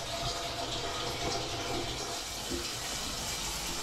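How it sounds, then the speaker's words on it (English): Water pours steadily over freshly boiled eggs, cooked about seven minutes, to cool them in a kitchen, making a continuous close splashing rush with no talk. "Straight away, just pour water to cool them down."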